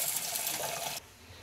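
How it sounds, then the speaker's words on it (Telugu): Water pours steadily from a tap over moong dal being rinsed for a summer dish, a close, rushing stream that stops abruptly, leaving a quiet background. "ఇదైతే మంచిగా ఒక 2-3 సార్లు కడిగేసుకొని నీళ్ళు పోసేసుకుంటా."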